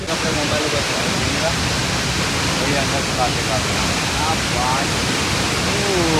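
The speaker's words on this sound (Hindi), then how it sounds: "वाटरफॉल का मजा बहुत खूबसूरत नज़ारा है" Chitrakoot waterfall in Bastar roars as a steady, dense rush of falling water that stays loud and unbroken throughout, with faint voices barely audible beneath it.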